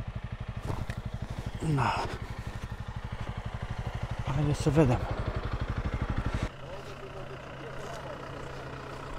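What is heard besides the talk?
motorcycle engine idling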